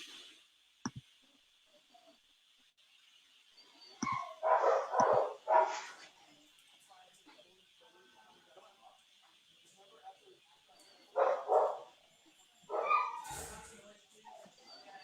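A dog barks in short intermittent bursts amid people talking, with quiet pauses between.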